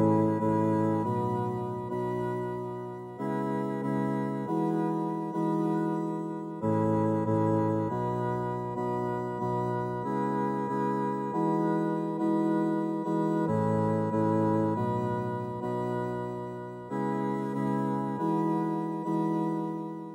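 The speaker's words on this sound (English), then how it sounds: "I was able to make a really nice sounding playable instrument out of looping a tiny little section of Doug's voice." A playable instrument built from a tiny looped slice of a voice gives sustained, organ-like held chords that change every second or so, played alone and fairly soft.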